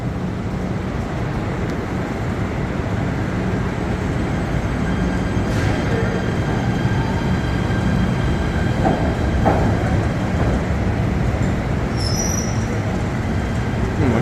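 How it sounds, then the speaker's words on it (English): A PATH commuter train pulls out of Hoboken station, a steady, loud low rumble of wheels and car body filling the whole stretch, with faint rail squeals and clicks above it and no talk. "this PATH train is gonna go back to Manhattan"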